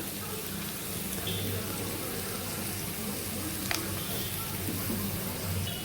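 Onions fry in a pan for a chicken curry, giving a constant, fairly loud hiss that holds even from start to finish. There are faint clinks now and then and no clear speech.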